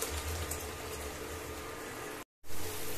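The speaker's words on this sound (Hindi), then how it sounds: "अब इसी में हम डाल देंगे अपना प्याज टमाटर का पेस्ट और इसे अच्छे से भूनेंगे।" Onion-tomato paste sizzles in a pan over a slow flame, a soft, steady bubbling hiss with a brief silent gap near the end.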